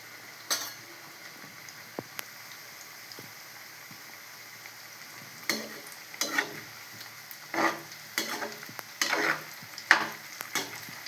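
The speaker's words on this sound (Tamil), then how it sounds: "இந்த மாதிரி எண்ணெய் காயவும் இந்த மாதிரி கொஞ்சமாக எடுத்து நம்ம பொரித்து எடுத்துக்கிடலாம்." Taro root pieces frying in hot oil for a roast: soft continuous sizzling with scattered crackles and stirring scrapes, growing busier and louder in the second half.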